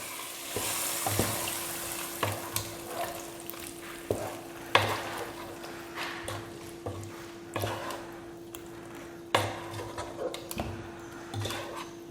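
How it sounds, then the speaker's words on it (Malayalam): A tempering with curry leaves sizzles steadily in mango pulissery while a spoon stirs it, with rhythmic scraping clanks repeating over the constant, close frying hiss. "ഞാൻ ഇതിലേക്ക് വറവ് ചേർക്കാൻ പോവാണ്. വേപ്പിലയൊക്കെ കുറച്ച് നന്നായിട്ട് ചേർക്കണം"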